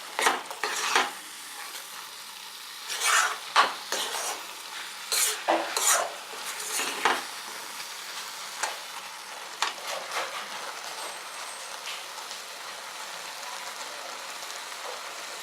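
Coconut puran filling thickening in a pan for kayi holige, stirred with repeated scraping strokes in uneven bursts over a soft, steady sizzle, close and fairly quiet.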